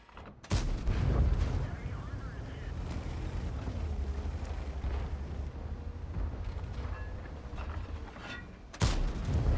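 A tank cannon fires in World of Tanks with a heavy, close boom, followed by a long rumbling engine and battle ambience. A second sharp blast comes near the end.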